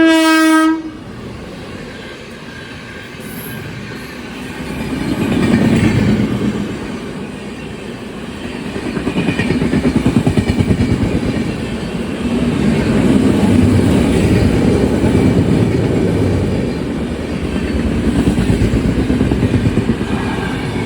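The Yesvantpur Weekly Express blasts its horn loudly at the start, then pulls out of the station with rumbling, swelling wheel and carriage noise and rhythmic clatter that builds steadily.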